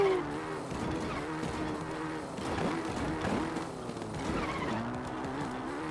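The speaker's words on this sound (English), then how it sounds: "It kind of sounds like our motorcycle is skidding out a little bit." A motorcycle skids out while zooming downhill in Zelda: Breath of the Wild, giving a continuous scraping, squealing tire slide under a steady engine-like drone at moderate volume.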